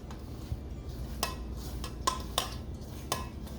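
Roti dough with baking powder being mixed by hand in a bowl: soft, muffled working sounds broken by a handful of sharp clinks and knocks against the bowl, spaced irregularly and close by.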